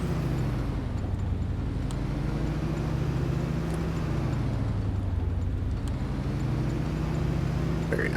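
De Havilland Beaver piston engine in Flight Simulator 2020 running steadily through a propeller check, a loud continuous droning hum with a slowly wavering pitch throughout.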